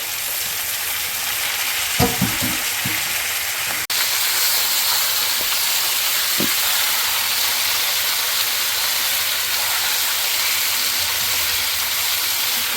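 Chicken pieces drop into a pan of browned tomato and onion, setting off a loud, steady hissing sizzle with a few clattering stirs early on, no voices.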